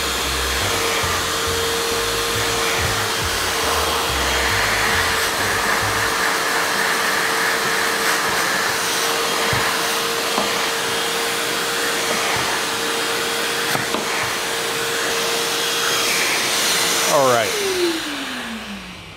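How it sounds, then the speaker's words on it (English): A vacuum cleaner runs loudly and continuously, sucking cleaning solution and dirt off a golf simulator impact screen, with a steady whine, rough suction noise over it, and the motor winding down at the end. "vacuum all that solution and dirt right up."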